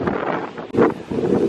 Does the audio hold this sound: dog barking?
no